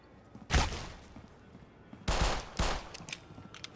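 Pistol shots in the tactical shooter video game Critical Ops during a tournament match, two sharp bursts of shots separated by quieter gaps, with a few fainter pops near the end.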